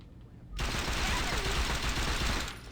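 The infinite-ammo Cobra machine gun in Saints Row 2 fires a loud, continuous burst that starts abruptly and runs for about two seconds before cutting off.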